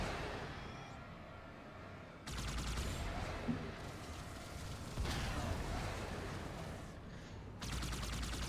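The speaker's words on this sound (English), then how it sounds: "I am shooting aliens out of the sky" Rapid bursts of automatic gunfire in Halo 2 Anniversary, shooting at aliens in the sky, fire in several sustained volleys with short pauses and explosions under a dense, noisy battle soundscape.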